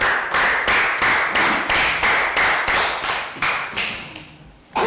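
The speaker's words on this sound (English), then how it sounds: "Round of applause for Team Blue." Rhythmic group clapping in a Year 3 classroom, about a dozen sharp, evenly spaced bursts that come close and loud, then fade before a final clap, with no talking.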